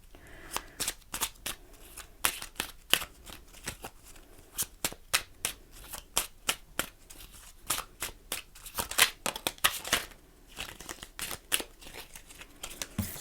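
Oracle cards being shuffled by hand, a steady run of crisp, papery riffling bursts at close range with no talking.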